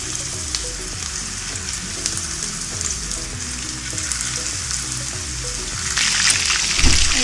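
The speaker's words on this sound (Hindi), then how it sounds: "इस कबाबों को अब हम शैलो फ्राई करेंगे।" Seekh kebabs shallow frying in hot oil give a steady, close sizzle that runs the whole time and swells louder near the end, with music playing underneath.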